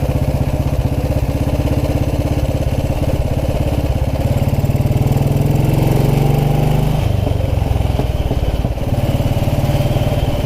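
A 1929 Ariel motorcycle engine runs steadily at close range on a lane ride, its thumping tone shifting in pitch partway through as a gear change comes and the revs drop, then settling back into a steady beat.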